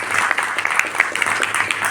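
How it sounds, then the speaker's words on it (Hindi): An audience claps loudly during a training session, a brief, dense burst of applause with sharp individual claps standing out, steady for about two seconds. "सर के लिए जोरदार तालियां होनी चाहिए।"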